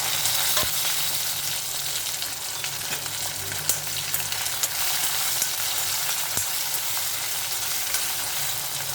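Chopped onion and green chillies frying in oil for a cucumber curry, a continuous close sizzle with a few sharp clinks of a spoon against the pan, no one talking.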